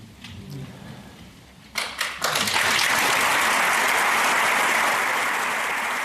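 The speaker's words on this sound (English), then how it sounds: "That was the line that garnered the most applause" Loud, sustained applause from a large audience in Ottawa, rising after a moment of quieter murmuring and holding steady at full volume until the end.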